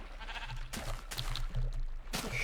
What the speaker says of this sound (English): There's a sheep in there.